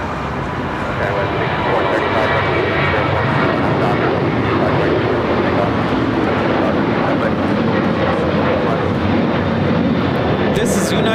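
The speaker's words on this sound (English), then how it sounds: "This is United Airlines 1791 taking off to San Francisco on the 737-900ER." United Airlines Boeing 737-900ER departing LAX for San Francisco: a loud, sustained, broadband jet roar holding steady throughout, with people talking faintly beneath it.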